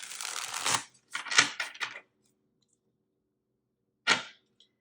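Tarot cards are shuffled in quick riffling bursts, two close together and then a single short one after a pause, crisp and near with no talk.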